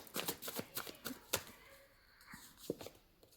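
Tarot cards shuffled and flipped during a reading: a rapid run of crisp riffling snaps and light card slaps, close and fairly quiet, thinning out into softer scattered taps.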